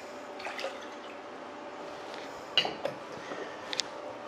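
Water poured into a cooking pan with sugar for a coconut sweet (casadinhos de coco), a soft, steady pouring wash with faint drips and a few light clinks of the pan, heard alone without talk.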